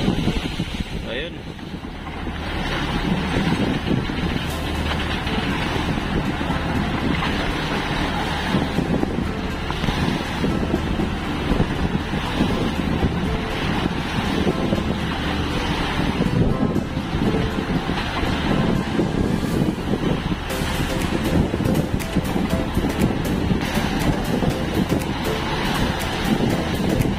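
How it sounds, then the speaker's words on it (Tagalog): Sea waves wash and rush continuously around a moving fishing boat offshore, mixed with heavy wind noise on the microphone, while people talk occasionally over the steady roar. "Alon."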